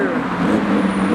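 A Mercedes-AMG GT R sports car drives past at close range. It makes a brief, loud engine rumble and roadway rush.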